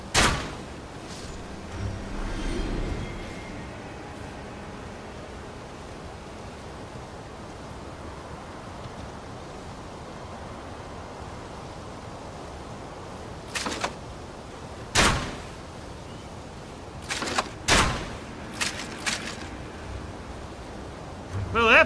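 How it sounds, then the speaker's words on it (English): Gunfire in a shooting video game, mostly quiet at first, then several sharp, loud shots in quick succession near the end, with a few softer bursts early on. "Why is he shooting over there?"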